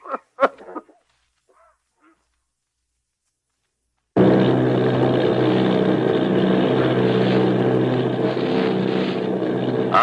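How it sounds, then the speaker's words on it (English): After a few quiet thin sounds, army bombing plane engines in a 1938 radio drama cut in abruptly with a loud, steady propeller drone that holds constant to the end. "Army bombing plane V-843 off Bayonne, New Jersey"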